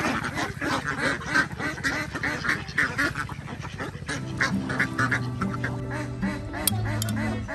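A flock of ducks quacking busily while a child tosses bread to them, rapid overlapping nasal quacks and honks close by, continuous and lively throughout.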